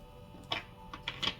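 Tarot cards being shuffled at close range, a few short, soft riffling bursts in quick succession against a quiet room.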